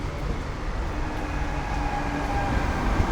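Train running along rail tracks near Masnou outside Barcelona, a steady continuous rumble with faint rhythmic rail clatter, moderately close and unbroken throughout.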